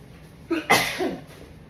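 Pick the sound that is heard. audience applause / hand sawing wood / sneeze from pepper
sneeze from pepper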